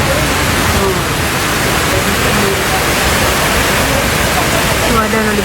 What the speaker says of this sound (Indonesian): lihat tuh hujan.